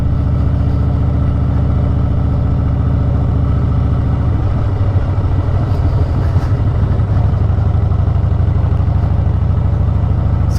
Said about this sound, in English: Oh no, garbage truck.